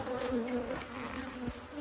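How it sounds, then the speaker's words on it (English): Honey bees hum steadily at a spring hive in the Texas Hill Country, a continuous close buzz with wavering tones as individual insects pass near, no voices. "checking these bees for spring"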